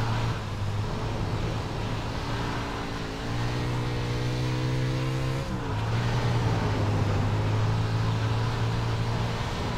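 A wingless USAC sprint car in iRacing drones with a loud, steady engine note that holds, shifts pitch, drops briefly midway, then returns to a sustained roar, heard close and alone.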